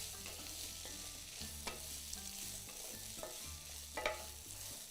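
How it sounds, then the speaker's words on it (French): Onions frying in a pan for a Basque pipérade, a soft steady sizzle with a few clinks and scrapes of a spoon stirring, quiet and close with a low hum underneath. "remuer les oignons."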